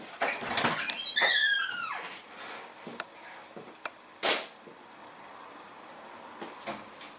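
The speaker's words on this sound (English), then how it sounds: "So I'm just going to step outside and fire this off." An air rifle fired outdoors: one sharp, loud report with a quick decay, preceded by squeaky creaks and rustling, with a few faint knocks afterward.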